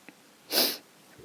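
One short, breathy nasal sniff sounds close to the microphone against near silence, with a couple of faint breaths around it.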